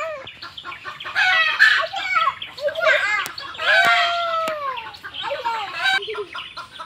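Chickens cluck and squawk in agitated bursts close by on a farm where a goat is kept, the calls overlapping and rising and falling over several seconds with faint voices in the background.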